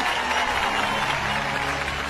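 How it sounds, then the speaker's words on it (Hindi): An audience claps steadily in a brief, dense burst of applause during a Hindi-dubbed South Indian action movie, with voices faintly mixed in. "ताली बजाओ ताली।"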